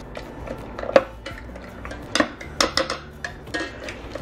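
Vegetables mashed in a pot with soy milk and lemon juice for a vegan Thanksgiving side make a run of scattered metallic clinks and scrapes of the masher against the pot, close and fairly loud, with quieter thumps in between and no talking.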